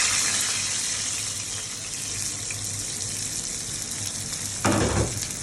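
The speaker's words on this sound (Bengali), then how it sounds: "এবার তেলটা গরম হয়ে গেছে, আমি এই যে মেখে রাখা শিং মাছটা দিয়ে দেবো।" Marinated shing fish (stinging catfish) goes into hot oil, giving a loud, steady frying sizzle that holds throughout, with a brief sharper burst of spitting near the end.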